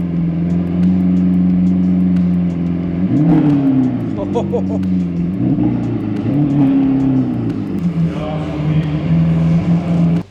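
A loud Lamborghini engine revs up and down repeatedly, a deep throaty roar rising in pitch, close by, with a voice briefly heard over it.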